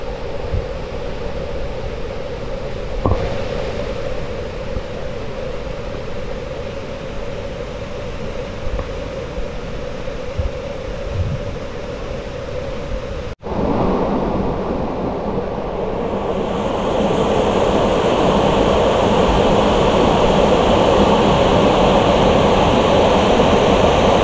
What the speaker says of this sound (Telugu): వాటర్ పర్లేదండి, బాగానే ఉన్నాయి, చాలా ఎక్కువగా పడుతున్నాయి కానీ ఫోర్స్ మాత్రం మామూలుగా లేదు.